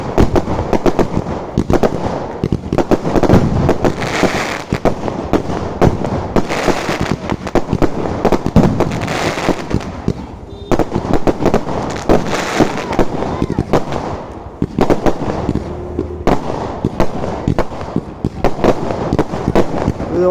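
Fireworks at a temple festival crackle and pop continuously in dense rapid bursts, loud and close, with occasional voices beneath the barrage.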